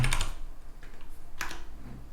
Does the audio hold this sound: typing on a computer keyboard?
yes